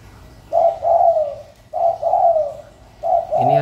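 A spotted dove (tekukur) coos in three clear, mellow phrases, each a short note followed by a longer rolling coo, close and fairly loud with brief pauses between, its voice mid-pitched and somewhat soft.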